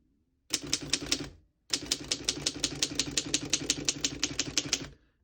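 Rapid, even keystrokes clatter on a 1910 Underwood No.4 antique desktop typewriter, a short burst of about five strikes, a brief pause, then a longer steady run of crisp mechanical clacks close by.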